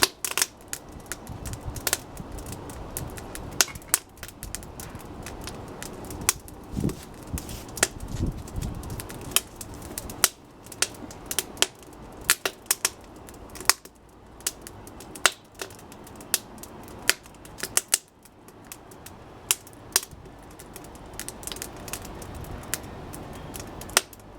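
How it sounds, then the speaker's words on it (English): Fire burning in a rocket stove during a burn and boil test, a steady run of sharp snaps and pops over a soft roaring crackle, close and fairly quiet, with no talking. "We got flames coming right out the top of the rocket stove now"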